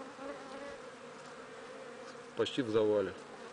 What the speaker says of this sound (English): So we can see that this bee colony is working.